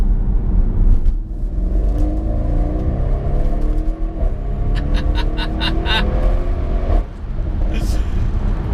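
An Audi RS6 engine revs and drones from inside the cabin, a deep rising and falling growl with a few sharper bursts of revs, while someone talks over it.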